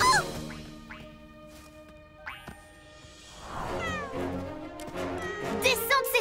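A cartoon cat stuck up a tree meows repeatedly, with several drawn-out, pitch-bending cries close and clear, and a busy cluster of calls toward the end.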